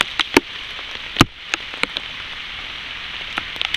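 Rain falls outdoors in a steady, fairly loud hiss, with scattered sharp drips and taps on nearby surfaces during a wet-weather fire-starting attempt, and no one speaks.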